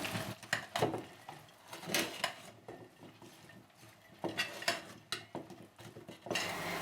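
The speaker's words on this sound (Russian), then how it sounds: "Беру ложечку и все вот это хорошо перемешиваю." A spoon stirs a hot pepper marinade in a pot, giving soft scraping and clinking in irregular bursts at close range, with no talk.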